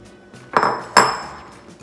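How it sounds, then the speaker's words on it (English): Two quick thuds as chopped tomatoes are dumped into a bowl of avocados while making guacamole, each a close soft clattering impact about half a second apart, otherwise quiet. "We're gonna dump everything in, and we're gonna go with the tomatoes"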